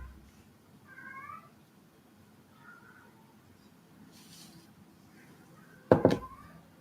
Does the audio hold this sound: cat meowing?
yes